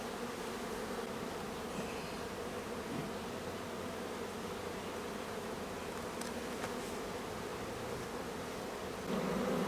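A steady, dense hum of many honey bees buzzing together in an open hive, close and continuous, with faint rustling and no talking.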